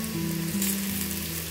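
Onions fry in a pan on low heat for a pepper breadfruit stir-fry, a close, steady sizzle with a faint hum, and no voices.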